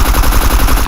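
Rapid automatic rifle fire from the video game Scum, likely an Mk18 or AS Val, rattling in one loud, dense, unbroken burst of shots that stops abruptly near the end.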